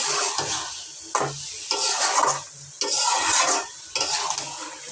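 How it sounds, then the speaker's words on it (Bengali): Beef with spices is stirred in a cooking pot: about four rhythmic bursts of close scraping and sizzling, each separated by a short lull, with no talk. "মশলার ভিতরে মাংসটা দিয়ে মশলার সাথে ভালো করে মিশিয়ে নাড়াচাড়া করে নিতে হবে"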